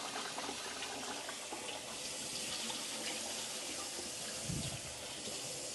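Water runs steadily from a tap while rice is rinsed under it, a continuous close hiss and splash with a brief heavier slosh near the end.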